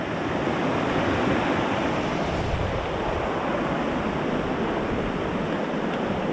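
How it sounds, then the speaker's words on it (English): Steady, close rush of creek water flowing along a trail, a continuous broadband wash with no voices. "it's along this beautiful creek"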